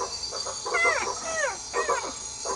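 Juvenile crocodile calls imitated by a frog: a run of short, upward-then-falling chirping yelps repeated four or five times in quick succession, fairly close over a steady hiss of background noise.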